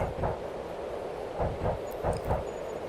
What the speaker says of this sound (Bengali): রবি আজ বাড়ি ফিরছে রাতের শেষ ট্রেন